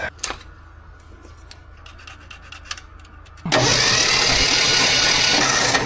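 Engine of a 1968 Ford F-100 pickup cranks over, a loud, steady churning starter whir that kicks in abruptly and runs without firing, preceded by a few small clicks and rustles.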